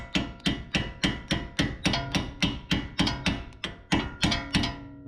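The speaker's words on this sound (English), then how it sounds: "I'm just going to whack it up just a tiny bit with the hammer so I can get that nut started." Steel hammer tapping a tie rod end into a Subaru steering knuckle during a rack and pinion replacement: a steady run of about fourteen sharp, ringing metallic strikes, close and loud, with no talking.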